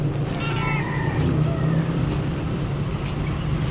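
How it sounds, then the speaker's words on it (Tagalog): A cat meows a few times close by in a home kitchen where sweet potato leaves and eggplant are being prepared, the short calls rising over steady low background noise. "Ayan aming pusa"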